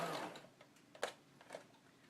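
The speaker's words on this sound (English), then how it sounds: "So just using a straight stitch" A sewing machine running a straight stitch along the seam of a rice-filled fabric bag, faint and close, with a soft whirring burst and a few light mechanical clicks.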